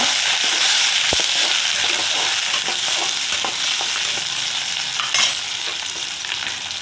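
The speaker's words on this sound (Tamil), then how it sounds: "வெங்காயம் கருவேப்பிலை ரெண்டுக்கும் சேர்த்து நல்லா வதக்கி கொடுங்க" Onions and curry leaves sauté and sizzle steadily in a hot pan for a Karaikudi-style eggplant curry, with a continuous loud frying hiss and occasional stirring scrapes throughout, no talking.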